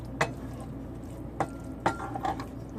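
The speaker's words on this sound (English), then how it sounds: "We're going to add half of the chopped cilantro. And then stir that in." A utensil stirs chopped cilantro into a pan of cooking food, giving a few soft scrapes and clinks against a low steady background hum, fairly faint and close.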